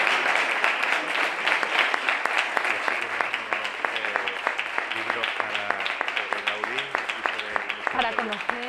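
An audience at a museum talk applauds, many hands clapping steadily at a fairly close, lively level while voices speak over the clapping.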